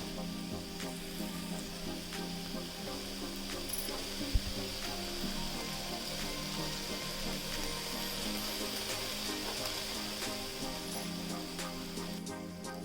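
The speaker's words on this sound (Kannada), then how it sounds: "ಸ್ವಲ್ಪ ಚೆನ್ನಾಗಿ ಹುರ್ಕೊಳ್ಳಿ ಇದನ್ನು." Vegetables frying in oil in a pan for a Kannada vegetable bath made without onion or garlic, a steady dense sizzle holding evenly throughout at moderate loudness, with one brief knock partway and no talking.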